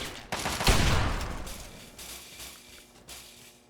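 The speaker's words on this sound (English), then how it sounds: "who's shooting us?" A burst of gunfire in Fallout 3 sounds as a loud volley near the start, followed by further scattered shots and echoing reports over about four seconds, with no talking.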